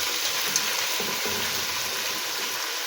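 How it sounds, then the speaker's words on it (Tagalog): Shrimp sinigang ingredients sautéing in a pan: a steady, even sizzle and frying hiss close up, with faint stirring scrapes and no voices. "Ginigisa para masarap"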